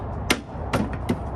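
The plastic lid of a Worx electric lawn mower is pressed back into place during a no-start repair, giving three sharp, close snaps spaced unevenly with quiet between them.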